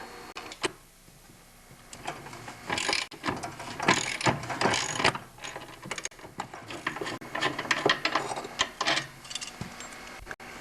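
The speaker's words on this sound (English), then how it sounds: "It is turning in the void, so I'm going to have to put my vice grips on that." Vice grips clamp and work a loose handle retainer on an MTD snowblower, giving close metallic clicks, ratcheting and scraping in irregular bursts that grow busier midway.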